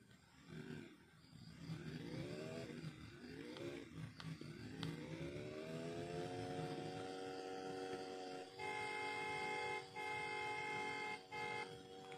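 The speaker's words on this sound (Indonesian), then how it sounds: "Kita klakson saja" A car horn in the Free Fire mobile game honks in several short bursts, then in long sustained blasts, over a steady revving engine.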